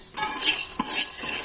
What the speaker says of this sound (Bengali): রান্নার শেষে এখন পপকর্ন ভাজি করব, পপকর্ন ভাজবো।